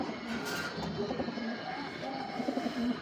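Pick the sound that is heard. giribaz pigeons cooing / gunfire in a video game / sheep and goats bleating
giribaz pigeons cooing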